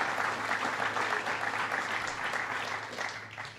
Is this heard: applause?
yes